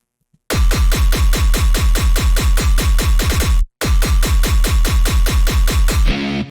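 A tearout bass loop made from Kaifu sample pack pieces pulses loudly in a steady, aggressive rhythm of repeated distorted bass hits, breaks off briefly, then comes back before ending in a gritty tail.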